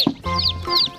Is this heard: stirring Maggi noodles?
no